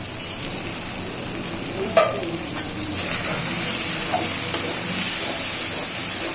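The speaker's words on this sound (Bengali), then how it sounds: "এখন বিফটাকে ভালো করে কষানোর পালা" Beef fries with red chilli, turmeric, cumin, coriander, pepper, cardamom and cinnamon in a pan, a loud continuous sizzle with occasional clinks and scrapes of stirring.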